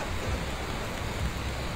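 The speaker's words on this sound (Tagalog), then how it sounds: "malakas na yung ulan. It's raining." Heavy rain pours down in a steady, dense hiss that fills the whole stretch without pause, with one brief louder tap near the end and no voices.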